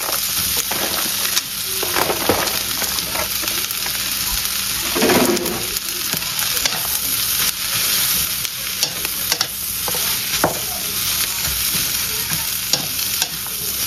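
Fried rice cooking in a pan, a loud constant sizzle with scraping spatula strokes and occasional clinks throughout, close up and with no one talking.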